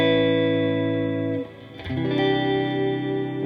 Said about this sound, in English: Or major add 9s sound more like this.